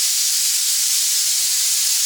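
Steam from tapioca cooking over a low flame, a loud, steady, close hiss with no variation and no talk.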